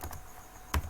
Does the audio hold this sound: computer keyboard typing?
yes